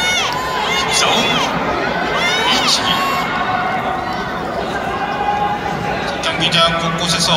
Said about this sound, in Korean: 경기장 곳곳에서 고객분들의 함성 소리도 나오고 있습니다